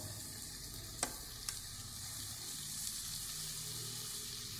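Radish and radish greens frying with besan in a pan, a faint, steady sizzle with two brief clicks of a stirring spoon early on.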